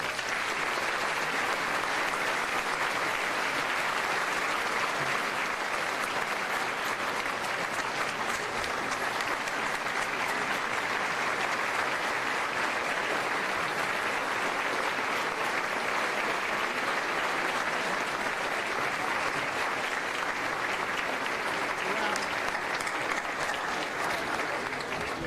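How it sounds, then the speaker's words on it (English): Sustained audience applause at a mayor's speaking event, steady and dense clapping from a large crowd lasting the full stretch without a break, fairly loud and close with no talk over it. "How about one more big round of applause for Mayor Nirenberg?"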